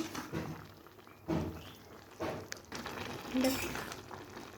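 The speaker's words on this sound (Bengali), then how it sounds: "এবার ভালোভাবে কিন্তু আমি নেড়ে চেড়ে নিব।" Cabbage vegetable mixture stirred in a pan, a few scraping thunks of a utensil against the pan at spaced intervals over a faint sizzle, with a voice talking at times.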